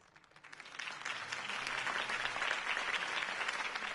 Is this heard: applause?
yes